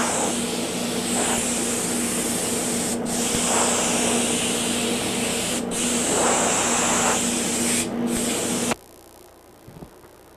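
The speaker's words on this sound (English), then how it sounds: "when you spray clear finishes, you have a pretty wide spray pattern" A spray gun applies thick Hydro-Coat clear finish in a continuous loud hiss, broken only by brief momentary pauses between passes, then cuts off near the end, leaving quiet room tone.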